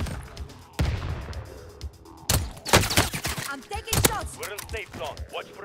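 Gunfire in the video game Warzone: sharp shots ring out in quick bursts and single cracks, loud and close, with a voice talking between them.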